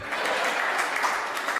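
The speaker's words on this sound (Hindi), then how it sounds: "आपकी तालियां तो अब आएंगी" Audience at a Hindi comedy kavi sammelan bursting into loud, dense applause for about a second and a half, cutting off abruptly.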